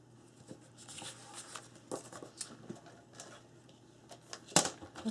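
Paper pieces being trimmed with scissors for a handmade baby swaddle album, giving quiet, scattered snips and rustles of paper close by, with no talking.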